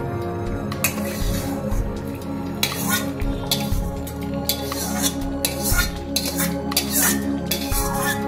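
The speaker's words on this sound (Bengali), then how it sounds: "এবার সবটা ভালো করে নাড়িয়ে নেবো" Chicken stirred together with fried tomato and capsicum in a pan for makhni chicken, giving steady scraping and wet squishing clatter of a spoon against the pan, continuous and close, with background music throughout.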